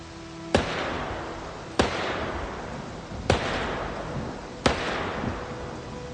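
Rifle gunshots in the Project Zomboid video game ring out as four sharp, evenly spaced cracks about a second and a half apart, each followed by a long echoing tail, with no talking.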